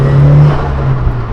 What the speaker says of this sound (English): are you showing the viewers some turbo noises?